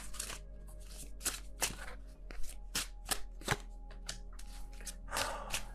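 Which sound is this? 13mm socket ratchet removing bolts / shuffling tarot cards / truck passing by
shuffling tarot cards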